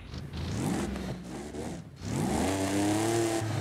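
A Ford F-150 pre-runner truck engine in Forza Horizon 5 revving and accelerating, rising in pitch twice with a brief dip between, loud and close with a steady whirring drone.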